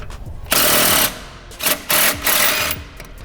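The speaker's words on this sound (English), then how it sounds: "I like to use an impact wrench just so the nut doesn't start spinning on that bolt" Impact wrench hammering in several short bursts on a sway bar end link nut during a coilover install on a Toyota 86 / Subaru BRZ, close and loud with brief gaps.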